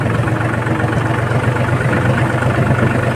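A mini tractor engine idles steadily after starting, a loud, close, continuous low throbbing rumble with no pauses and no talk.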